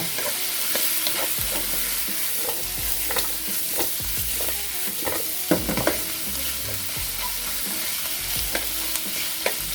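Smoked duck stir-frying in a pan, a loud steady sizzle broken by repeated spatula scrapes and taps, no one speaking.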